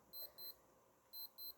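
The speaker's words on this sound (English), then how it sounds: "That's my alarm." An alarm clock goes off with two pairs of quick, high electronic beeps, a rhythmic double chirp repeating after a short gap, faint against a quiet room.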